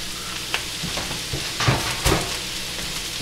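Shredded cabbage sautéing in bacon fat in a hot skillet, a steady crackling sizzle with a few louder stirring and tossing clatters, close and with no talking.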